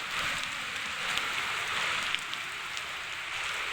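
A heavy rain shower pours steadily on surfaces outdoors, a dense, continuous hiss with scattered close drips and no voices.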